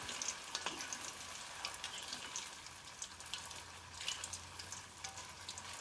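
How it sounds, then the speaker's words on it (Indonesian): Tahu aci (tapioca tofu) frying in hot oil, a steady dense sizzle and crackle that holds throughout with a few brief louder pops, with no talking. "dan saya akan langsung goreng ya teman-teman"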